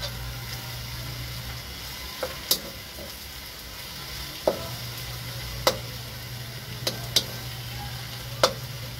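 Ginger goes into a hot pan of chicken adobo cooking in coconut milk, giving a steady low sizzle with a few sharp clicks and stirring taps scattered throughout, with no talking.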